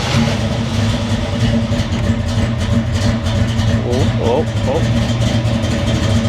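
A Foxbody Ford Mustang engine, fitted with new aftermarket fuel injectors, runs loud and close with a steady low rumble and throb. A person speaks briefly over it.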